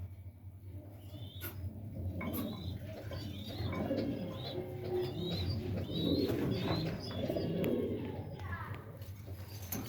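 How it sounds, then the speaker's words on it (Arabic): Egyptian Teira Mafatal pigeons coo steadily in a loft, with soft repeated calls and chirps over a constant low hum, while someone talks over them. "فردة حمام"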